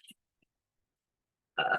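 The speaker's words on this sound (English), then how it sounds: "I do burp when I tune in, so forgive that." A single short, voiced burp erupts near the end after a faint breath and near silence, close and fairly loud.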